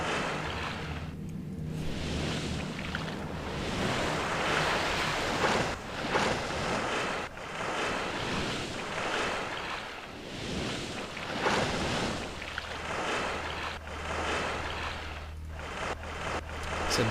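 Steady broadband wash of waves and wind in Age of Empires 2 as ships sail up the coast, a continuous sea ambience with a low hum underneath and no talking.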